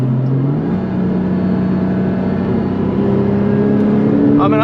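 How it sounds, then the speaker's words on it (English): A Porsche 997.1 Carrera S with Tiptronic S transmission in manual mode, engine droning steadily and then rising in pitch as it downshifts, heard from inside the car with a voice speaking over it. "I'm going to downshift again."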